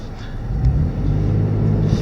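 A 2015 Toyota 4Runner TRD Pro engine revs and accelerates, a steady loud low rumble that swells slightly and holds, heard close with no talk.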